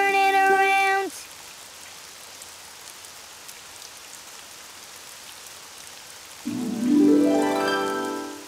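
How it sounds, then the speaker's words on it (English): Cartoon rain falls steadily outside, a soft continuous patter heard on its own between musical tones that fade out at the start and swell back in near the end. "Oh, it's raining outside."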